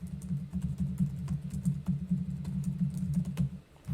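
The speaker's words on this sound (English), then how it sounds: "I just stopped typing." Steady rapid typing on a computer keyboard, close and continuous with dense clicking keystrokes throughout, no talking.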